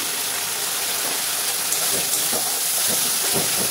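Green chilies dropped into a hot pan with pointed gourd and curd sabzi cooking, giving a loud, steady broadband sizzle and hiss, close up and continuous with faint crackles.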